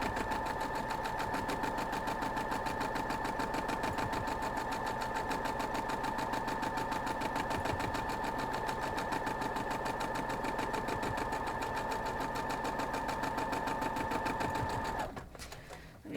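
A sewing machine stitches steadily along a scrappy folded-corners quilt block, a fast, even mechanical chatter at close range that runs unbroken for most of the stretch before stopping near the end.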